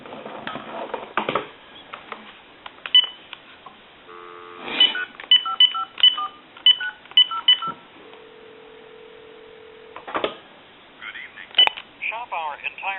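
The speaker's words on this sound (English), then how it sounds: "we're going to use another telephone and dial out with it" A telephone on a regular line dials out, sending a quick series of short DTMF tone beeps, then a steady tone, then more bursts of dialing tones amid clicks, fairly close.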